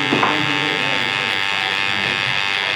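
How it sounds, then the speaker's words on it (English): Electric hair clippers buzz steadily and loudly at close range against a man's neck while a barber cuts a skin fade. "I never try and run the clippers exactly over the Adam's apple"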